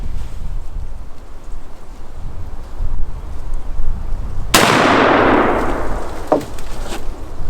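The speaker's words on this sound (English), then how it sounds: "We're loaded up, going to take another shot at it." Model 1842 smoothbore pistol fired outdoors, a single sharp, loud report with a long decaying rumble against steady wind noise.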